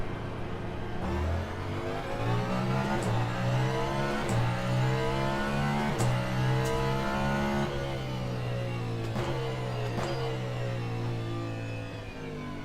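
Peugeot hypercar engine in the racing game Le Mans Ultimate, a steady loud simulated engine note rising through gears with repeated upshift dips and revs, continuous for the whole stretch without talk.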